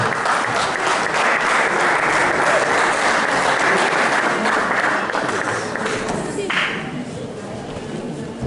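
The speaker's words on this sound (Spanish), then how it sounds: "Recibámoslos con un fuerte aplauso" Loud, dense applause from a crowd at an evening Christmas worship gathering welcoming performers, many hands clapping steadily and close, tapering a little near the end.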